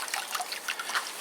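Water trickles softly and steadily into a water bath prepared with soap and a battery charger for electrostatic cleaning, a faint continuous splashing with no talk.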